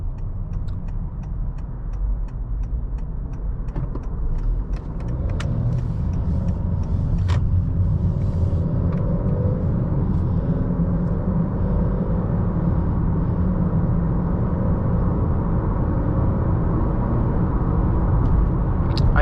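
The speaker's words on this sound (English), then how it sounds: "Do a little more of like a normal kind of acceleration run." A 2020 Honda Accord EX-L with the 2.0T engine accelerating on a highway, heard from inside as a steady, rising engine drone with road rumble and occasional faint ticks.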